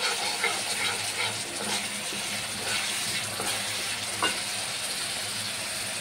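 Oil sizzling steadily while egg curry cooks in a pan, a continuous bright hiss with faint crackles and no talk.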